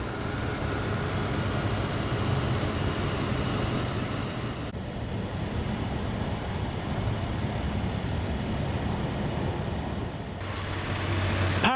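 A 2018 Toyota Avalon's 3.5-litre naturally aspirated V6 idles with a steady low rumble and hum, heard close and alone, with a slight shift in tone partway through.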